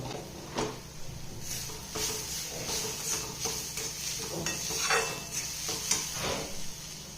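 Ground coriander, cumin and ajwain with turmeric sautéing in oil in a pan on medium gas, a soft steady sizzle with several stirring scrapes of a spoon against the pan, close by and without any voice.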